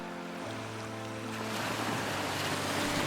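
Sea waves wash steadily onto the beach at Benidorm, Spain, a broad continuous surf roar under sustained musical tones, with no talking.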